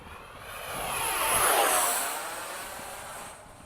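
A small model jet, a 70mm electric ducted fan F/A-18 with cheater vents on top, whooshes past with a rising then fading high-pitched whine, swelling louder midway before receding into the distance.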